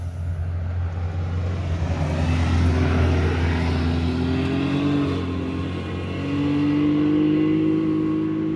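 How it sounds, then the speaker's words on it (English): A side-by-side off-road vehicle passes along Mullan Road, its engine droning loud and close with a low rumble and shifting pitch as it revs by, swelling again toward the end. "as you can hear, side by side."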